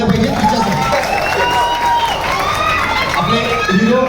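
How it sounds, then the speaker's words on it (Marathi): Strong applause and cheering from an audience at a Zee Marathi mango festival event, a steady dense wash of clapping and crowd noise with voices mixed in throughout. "त्यामुळे एकदा जोरदार टाळ्या झाल्या पाहिजे तिच्यासाठी."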